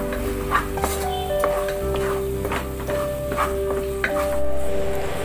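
Curd, onion and ghee being stirred together in a pot, with scraping, clinking strokes of a spoon against the metal over a low sizzle, close and fairly loud, no talking.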